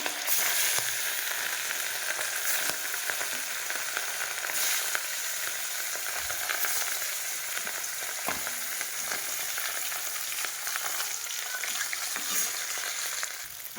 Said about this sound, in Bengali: মাছগুলো একটা একটা করে ভাজতে থাকি